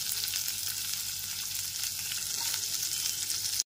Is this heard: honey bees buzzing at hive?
no